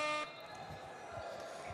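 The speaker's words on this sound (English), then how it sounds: "Got some crazy fans out here with their foghorns." Fans blow a horn at a junior varsity basketball invitational: a loud, blaring harmonic blast opens, then a steady horn tone carries on more quietly beneath the noise of the gym crowd.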